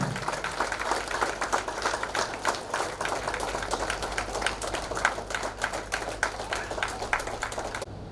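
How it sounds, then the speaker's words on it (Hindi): Warm applause from a church congregation gathered for a 72-hour fasting prayer in Ranchi, greeting Pastor John Toppo of the AG church, with dense steady clapping that holds for about eight seconds and then stops. "उन्हें भी हम जोरदार ताली के साथ स्वागत करें।"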